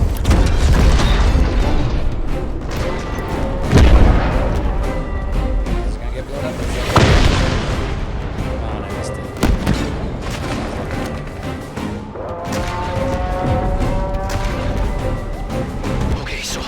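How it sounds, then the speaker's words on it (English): Booming explosions from a charge going off in Halo Infinite's campaign, several heavy blasts landing over loud, dense game audio while a person talks throughout. "Charge exploding."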